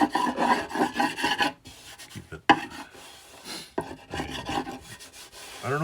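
Sandpaper scrubbing hard across the middle of a wooden sign made from scrap wood, with repeated rough rasping strokes, close and loud, broken by short pauses and a sharp knock.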